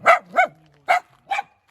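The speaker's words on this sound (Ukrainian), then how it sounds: "тут є пес, який гавка трошки вибільше мене" A dog barks four times, sharp and close, in an uneven rhythm with short pauses between barks and nothing else around them.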